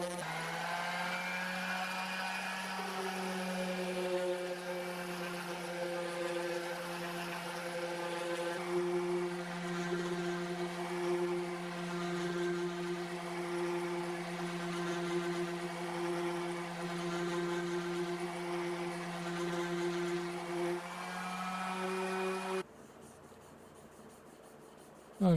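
Random orbital sander with 320 grit paper working over the flat areas of a custom guitar body, a steady droning whine held for about twenty seconds before it cuts off, close and alone.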